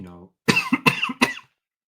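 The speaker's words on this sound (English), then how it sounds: "I'm dying here with this cough" A short voiced sound, then a cluster of three or four harsh coughs in quick succession, close and fairly loud.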